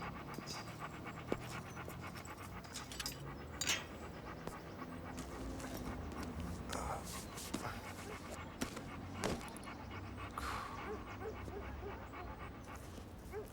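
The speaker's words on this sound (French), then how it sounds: "Je suis le maître chien de Rain, votre berger." A shepherd dog pants steadily and close, quick rhythmic breaths broken by occasional soft whimpers, faint clicks and movement noises in a quiet room.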